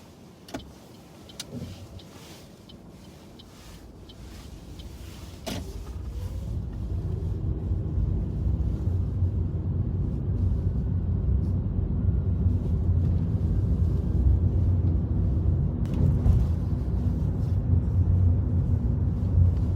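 A car pulls away during a mock driving test, heard from inside the cabin: a few clicks and quiet moments, then engine rumble swells and settles into a steady drone.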